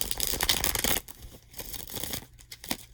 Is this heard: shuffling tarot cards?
yes